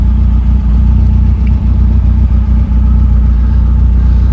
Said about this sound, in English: once the car's warmed up, you want to check there's no overheating